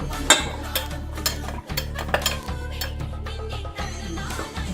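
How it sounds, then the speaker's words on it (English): A spoon works through food in a cooking pot with repeated scraping strokes and light clinks over a steady low hum, close and fairly loud. "We can stir it well before it gets boiled."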